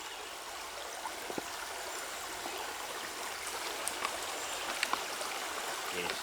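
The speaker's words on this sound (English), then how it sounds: "Looks like he's got to get the bag open a little more so that the water will run into it." Stream water runs and trickles into a water bag being filled during a hike on the Horse-Shoe trail, a steady soft outdoor flow with faint splashes, fairly quiet and without speech.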